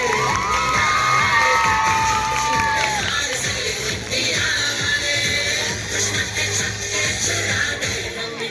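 A crowd at a Republic Day annual school function cheers and shouts loudly, with children's voices and whoops over a dense, sustained roar and some shuffling, alone without clear speech.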